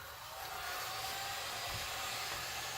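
Steady whooshing air blower blowing dust off a heart-shaped resin geode piece, a continuous close hiss held evenly for the whole stretch with no talk.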